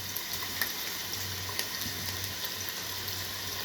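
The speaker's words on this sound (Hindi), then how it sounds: "अब एक पैन में मैंने आधा कप ऑयल ऐड कर लिया। साथ ही अब हम इसमें प्याज ऐड कर देंगे" Onions sizzling in half a cup of hot oil in a pan while cooking a chickpea pulao masala, a soft, steady frying hiss with faint crackles, close and alone with no talk.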